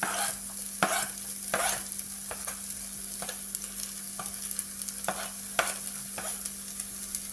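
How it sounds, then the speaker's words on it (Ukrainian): Steady sizzling of onion and carrot frying in a multicooker for plov, with a series of sharp scraping knocks from stirring and a low electrical hum underneath. "Звук смаження вже є, значить щось виходить."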